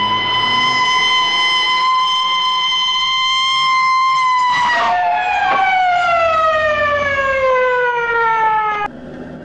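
A loud wailing police siren sweeps up and down nearby, with a second siren tone briefly overlapping before it cuts off.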